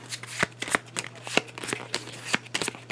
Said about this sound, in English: we're going to take these 3 cards, we're going to shuffle them up